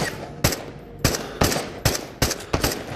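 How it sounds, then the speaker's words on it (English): Rifle fire from an AK in the video game Into The Radius, roughly six sharp, loud shots spaced unevenly about a third to half a second apart, close and with no talking over them. "If we waste a couple rounds on the AK"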